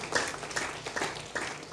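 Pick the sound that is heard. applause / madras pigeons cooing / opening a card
applause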